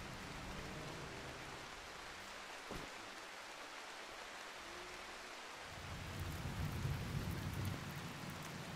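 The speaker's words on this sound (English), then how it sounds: "Ah, good, it rained. That put out the raging forest fire." Steady rain and thunder in the video game Rimworld, a continuous hiss of falling rain with one sharp thunder crack early on and a deeper rumble swelling near the end.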